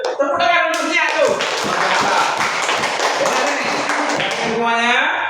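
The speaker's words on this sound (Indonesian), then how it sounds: "Tepuk tangan untuk dia tuh." Classroom applause from students, a brisk round of clapping that fills most of the moment, with the teacher's voice audible at the start and end.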